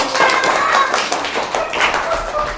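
Fourth-grade schoolchildren clap for a classmate in a classroom, a quick patter of small scattered claps close by for a couple of seconds.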